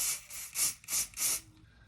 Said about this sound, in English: I'm gonna spray it on top of this.